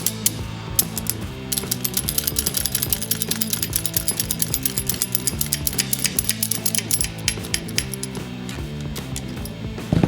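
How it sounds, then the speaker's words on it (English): A ratcheting cable cutter squeezed repeatedly to cut through a cable, giving a rapid, regular string of sharp metallic ratchet clicks close up, with rhythmic heavier clunks throughout. "as you squeeze it, as the name implies, it just ratchets until it basically cuts the cable in half."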